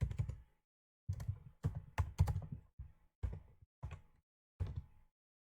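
Keys on a computer keyboard are typed in short, quiet bursts of clicks separated by pauses, as SQL is written, with no talking.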